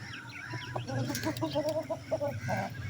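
Chickens cluck in a steady, busy run of short calls, close by, with a low hum of farmyard noise underneath.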